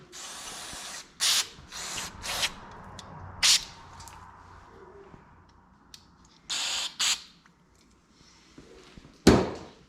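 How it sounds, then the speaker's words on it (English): A can of carburetor cleaner sprays a Honda GX series engine carburetor in short, sharp hissing bursts, a dozen or so separate squirts spaced irregularly, close and loud against a quiet background. "A little more carb spray."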